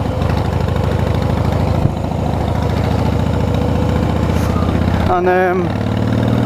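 A Harley Davidson Rocker C with a 1584 twin cam engine runs with a steady, loud, low rumble throughout, and a short voice is heard near the end.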